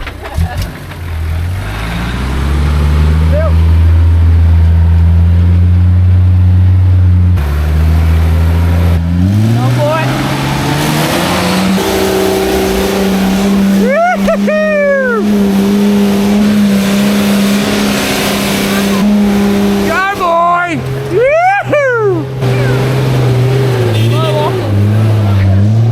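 A four-cylinder 79 series four-wheel drive with no turbo and no lockers, on 35-inch tyres, revs hard off-road, its loud engine note climbing and falling in repeated surges while people talk over it.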